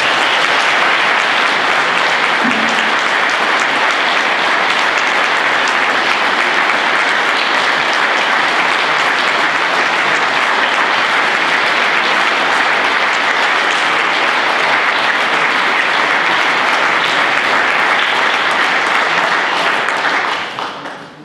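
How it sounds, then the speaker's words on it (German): Long, sustained applause from an audience at a Wolfgang-von-Dalberg medal award ceremony, dense steady clapping at full loudness for about twenty seconds before tapering off at the very end. "der lang anhaltende Applaus würdigt, was Sie gemacht haben"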